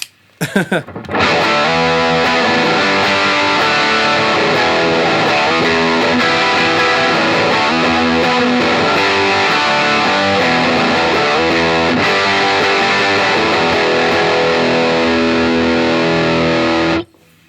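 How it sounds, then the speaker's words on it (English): Heavily distorted electric guitar playing chords and riffs through an MXR Il Diavolo overdrive pedal set to aggressive asymmetrical silicon diode clipping, loud and sustained for the whole stretch. "the high position provides aggressive asymmetrical silicone diode clipping"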